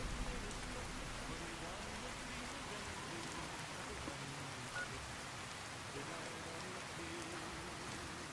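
Steady modded rain in Fallout New Vegas falls as a soft, continuous hiss of drops on surfaces, faint and even throughout with no breaks, while a voice talks now and then.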